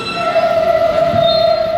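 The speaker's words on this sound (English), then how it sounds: "So we're here on the E train" A New York City subway E train running, a loud, steady rumble of the car with a sustained high metallic whine of wheels or motor across the whole short stretch.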